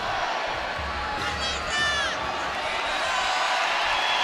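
A packed arena crowd roars steadily through a women's sprint finish, with a dense wash of cheering and a few whistles and whoops rising above it.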